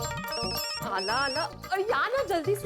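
A telephone rings with a bright, repeating electronic tone in a Hindi TV sitcom scene. It is heard alongside someone speaking hurriedly over it.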